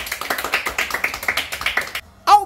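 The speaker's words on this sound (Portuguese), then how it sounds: "Uma salva de palmas" A steady run of sharp hand claps in even rhythm from a small group at a gift-opening celebration, fairly close and loud, stopping abruptly before a brief squeaky burst at the end.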